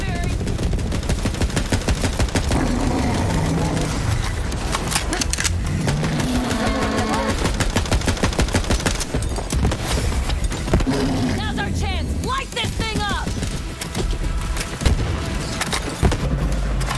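Rapid bursts of gunfire in Borderlands 3 rattle almost nonstop, mixed with explosions, game effects and a voice speaking over the top. The shooting stays loud and close throughout.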